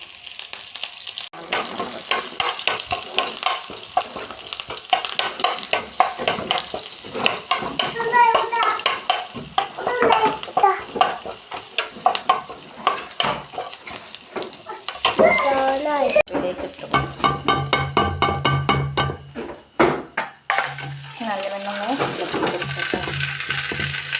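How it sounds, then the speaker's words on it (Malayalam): Mustard seeds and small shallots sizzling in hot oil for a coconut-milk tapioca dish, with crackling, popping fry and stirring scrapes throughout, and intermittent speech over the cooking. "നമ്മതിലേക്ക് കടുക് ഇടുന്നു കേട്ടോ. കടുക് കൂട്ടണമെങ്കിൽ കൊണ്ടേ ചെറിയ ഉള്ളി എരിഞ്ഞ് വെച്ചത് കേട്ടോ"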